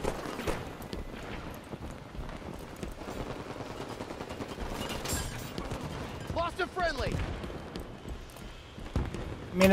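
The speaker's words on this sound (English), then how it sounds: "I'm shooting down at somebody and he just looks up, shoots me, I'm dead." Gunfire in the Halo 5 game comes in rapid bursts and scattered shots, with busy in-game effects and a voice talking over it throughout.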